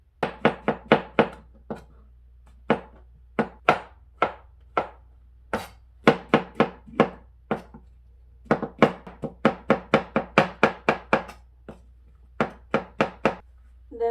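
A knife chops white button mushrooms on a cutting board in quick rhythmic runs of crisp, close thuds, broken by short pauses, with no voices.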